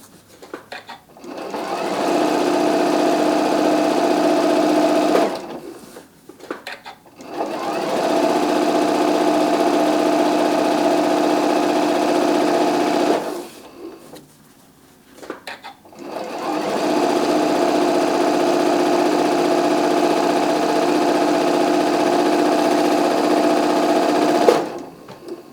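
A sewing machine stitches steadily along the fabric edge of a curvy bag, running in three long, loud, even stretches separated by brief pauses.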